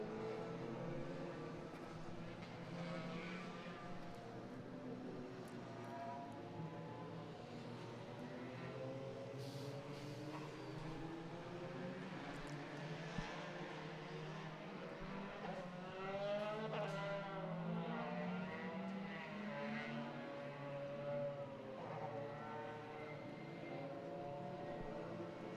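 Several race cars at an ICCR round circuit weave across the track to warm their tyres, their engines rising and falling in overlapping drones that hold steady and fairly loud throughout, with no voices.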